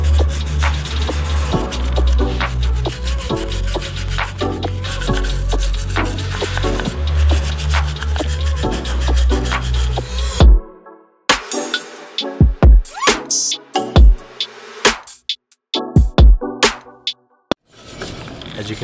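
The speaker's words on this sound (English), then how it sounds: "As you can see, I'm using the patented twin brush technique." Two brushes scrubbing white oxidation crust off a corroded aluminum engine block, a steady rasping rub for about ten seconds, then broken into short separate strokes with gaps of quiet.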